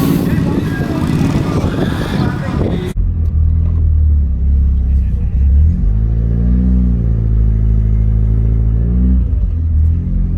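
A classic car engine at the Sizewell classic car show follows a short burst of loud noise. It settles into a deep, close idle, then revs up smoothly and drops back, loud and throaty.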